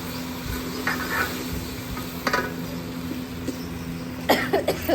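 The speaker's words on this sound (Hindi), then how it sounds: "खांसी आ गई।" A short cough cuts through quiet kitchen background noise, with faint stirring and sizzling around it.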